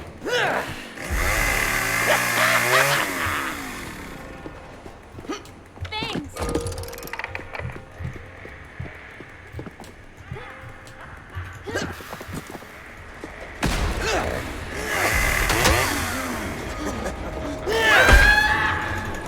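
A chainsaw in the video game Propnight revs in two loud buzzing bursts, separated by clattering game effects and a stretch of quieter ambience.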